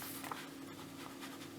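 A pen writes by hand on paper while knitting gauge is worked out, a soft, faint scratching under a steady low room hum.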